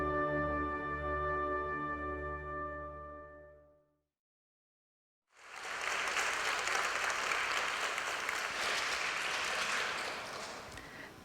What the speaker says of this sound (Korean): 박수를 쳐주시니까